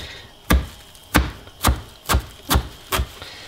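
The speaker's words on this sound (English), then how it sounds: "chop this up nice and fine" A knife chops fresh herb leaves on a cutting board indoors, six sharp, evenly spaced thwacks about half a second apart, close and fairly loud with no talking.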